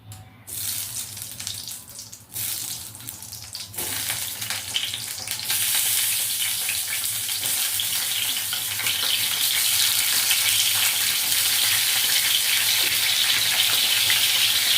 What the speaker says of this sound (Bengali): আমি তেল দিয়ে আগে পটলগুলোকে ভেজে নেব